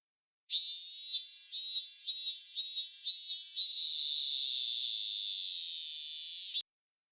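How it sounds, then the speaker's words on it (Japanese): Minmin cicada (Hyalessa maculaticollis) calling alone in a Japanese summer setting: five sharp pulsing 'min' phrases, then one long sustained buzzing drone that fades slightly before ending abruptly, loud and close. "ミンミンゼミは名前の通りミンミンと鳴きます。 ちなみにこの鳴き声もこんな感じ。"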